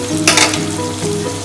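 Onions frying in a covered pan for a restaurant-style country chicken curry: a steady, close sizzle with a brief hissing burst near the start, continuous and loud, with no talking.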